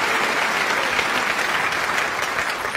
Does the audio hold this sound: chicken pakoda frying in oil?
no